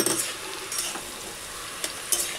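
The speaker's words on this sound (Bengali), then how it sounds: "লাউটা এবার এদিকে একটু নাড়া দিই।" Bottle gourd is stirred in a frying pan, with a soft sizzle running underneath and a few quick scrapes and taps from the utensil.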